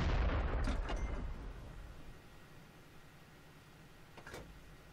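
A Jagdtiger tank gun fires once with a loud, heavy boom that rolls off into a long fading rumble, followed by a fainter crack near the end, in World of Tanks.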